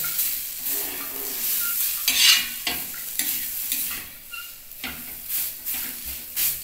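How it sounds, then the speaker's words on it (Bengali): An egg and vegetable chop filling is stirred in a frying pan, a spatula scraping and turning it in repeated close strokes over a soft, steady sizzle. "এইবার এই পুরটাকে ভালো করে এপাশ ওপাশ করে নাড়িয়ে পুরটাকে বানাতে হবে।"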